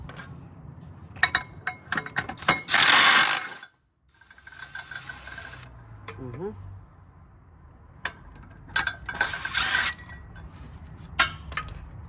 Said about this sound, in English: there are another two 15mm right here that I'm going to remove as well